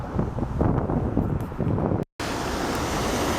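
Rapids on the Grand River in Grand Rapids, Michigan, rush in a steady, loud broadband roar with wind buffeting the microphone, broken by one brief dropout near the end.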